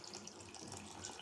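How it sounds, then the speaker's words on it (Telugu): Tamarind juice is poured into an eggplant and drumstick curry, making a soft, continuous watery splashing that is faint and steady throughout. "వంకాయ కర్రీలో చింతపండు పులుసు పోస్తున్నానండి"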